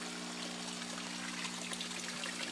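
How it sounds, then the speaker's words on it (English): Water bubbles and trickles in the corners of an aquaponics swirl filter, a soft continuous gurgle over a steady pump hum, fairly quiet. "you can actually see the water bubbling right there in the corners"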